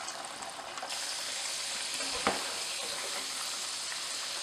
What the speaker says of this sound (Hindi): इस तरह से हमें सारे कच्चे केले को भी फ्राई करना है।